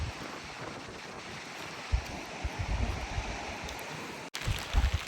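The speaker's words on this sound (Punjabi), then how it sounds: "ਕਣੀਆਂ ਦੇ ਨਾਲ ਨਾਲ ਹਵਾ ਵੀ ਬਹੁਤ ਤੇਜ਼ ਹੋ ਗਈ" Strong wind blows with light rain, roaring in gusts and buffeting the microphone with deep rumbles, loud and unbroken apart from a brief dropout.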